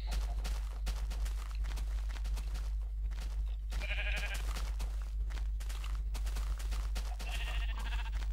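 Sheep bleating in Minecraft, two distinct wavering bleats a few seconds apart over a low steady background hum, with faint clicks like footsteps in between.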